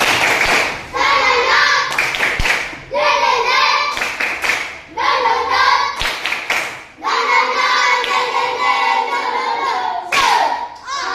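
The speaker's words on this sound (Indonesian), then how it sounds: "Tepuk semangat." Schoolchildren in a classroom perform a spirited clapping chant, voices calling in unison between sharp, rhythmic bursts of hand claps in repeated phrases, loud and close.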